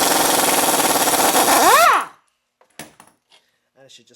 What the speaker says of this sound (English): It is a 17mm long bolt, so we're going to use our impact gun to take that off next.